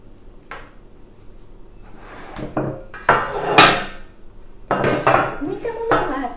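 A 4.8 cm round metal cutter clinks and taps against a tray or board while pressing out rounds of sticky oil-based galette dough, with a few sharp, close knocks and scraping rattles at irregular intervals.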